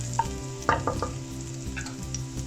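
Garlic sizzles steadily in a hot pan, close and moderately loud, while a utensil scrapes and clacks through it in a few quick stirring strokes.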